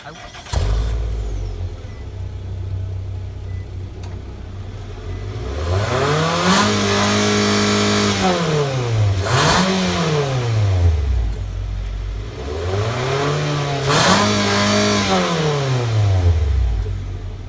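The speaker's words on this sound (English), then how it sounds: "And then I'm going to give you that outside exhaust note." A 2015–2016 Nissan Altima's engine revs climb and fall in two distinct pulls, with a deep exhaust roar heard from outside the car, steady idle rumble between bursts.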